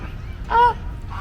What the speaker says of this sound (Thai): ข้าง ๆอันนี้ก็เป็นห่านนะครับกำลังกินกระลำปี